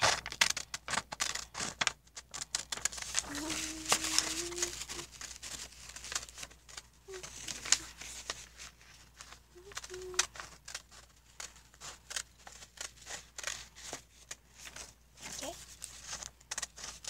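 Scissors snipping and crinkling through craft material for a homemade DIY popsocket, a steady run of close, irregular cuts and rustles with a faint voice now and then.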